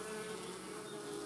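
Honeybees in a busy colony of up to seventy thousand buzz inside the hive, a dense continuous drone, close and steady without pause.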